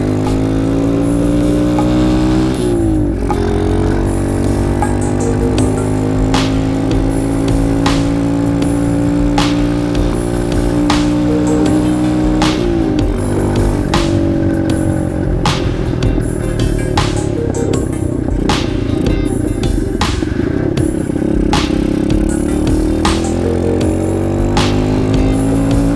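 A very lightweight supermoto motorcycle revs while being ridden, its engine note climbing and dropping through gear changes, loud and steady throughout with wind noise and no talk.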